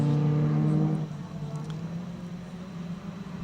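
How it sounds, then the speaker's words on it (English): Race cars in a grassroots endurance race sweep into a turn on a circuit, a steady engine drone that is louder at first, then settles into a lower, more distant hum. "And we can see the cars come into the turn."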